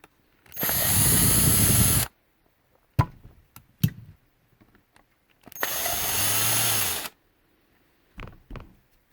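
Two Torx T10 screws being driven out of a Schlage keypad deadbolt with a power driver, two loud sustained whirring runs of about a second and a half each, separated by brief clicks and taps.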